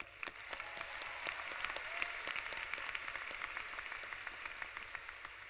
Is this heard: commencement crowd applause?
yes